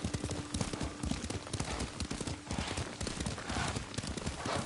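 Rhythmic clip-clop of horse hooves trotting at a steady pace in the video game Ghost of Tsushima, with a faint voice and ambient game sounds underneath.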